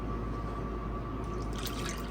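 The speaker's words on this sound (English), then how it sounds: "And then I'm gonna add in the 1 cup of water. Carefully." A cup of water is poured into sugar for raspberry freezer jam, a soft steady trickle and splash under a constant background hum, with no talking.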